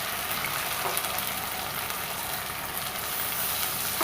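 Gobi manchurian frying with green and red chilli sauce, a continuous soft sizzle and hiss from the pan with faint stirring, fairly quiet and unbroken.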